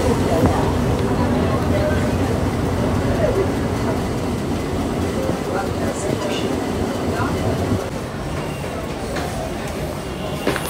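A Mumbai local train in motion is heard from inside as a continuous rumbling, rattling ride noise with faint clatter. Voices can be heard over the train.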